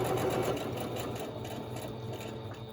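A sewing machine stitches in a continuous fast, even whir with rapid needle rhythm. It is close and steady, easing slightly toward the end.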